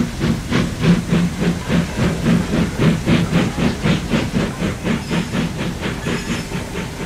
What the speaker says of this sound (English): With a blast of his whistle, he went to fetch his return train.